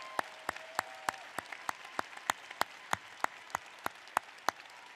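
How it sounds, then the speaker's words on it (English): Rhythmic, evenly spaced clapping at a winter commencement for graduates, around fifteen sharp claps at a steady beat, fairly faint, with a brief faint tone under the first second. "Graduates, let's give them a round of applause."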